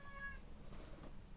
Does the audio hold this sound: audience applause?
no